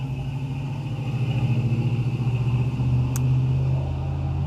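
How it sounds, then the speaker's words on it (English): A loud personal vehicle passes outside, its deep engine rumble swelling steadily over several seconds and staying heavy and close, with no talking. "I know that sounds like a big loud like dump truck or something."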